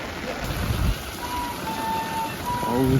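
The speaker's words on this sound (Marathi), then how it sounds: "बाहेर पाऊस पण खूप खतरनाक चालू आहे यार. थांबतच नाही" Heavy monsoon rain pours outside near a hospital, a loud, steady dense hiss of drops that continues throughout, with faint background sounds mixed in.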